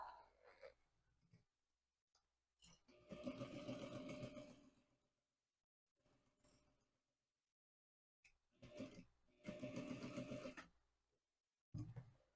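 A home sewing machine stitches a fabric pencil pouch with a zipper in two separate bursts of rapid, steady mechanical whirring, each a couple of seconds long. Short handling noises and quiet gaps fall between the runs.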